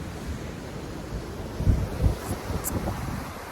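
Pacific Ocean surf washes on the shore under steady wind, a low rumbling wash with a couple of stronger wave surges midway and constant wind buffeting the microphone, no voices.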